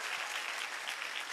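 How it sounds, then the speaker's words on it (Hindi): An audience gives a short burst of loud, thick clapping at a wellness event, many hands together in a continuous roar with no voice over it. "जोरदार तालियां बजा दें।"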